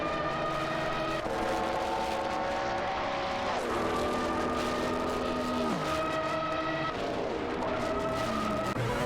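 Race cars in a video game race scream past, engines holding high pitched notes that drop sharply on gear changes and passes, several cars overlapping at steady volume with no talk.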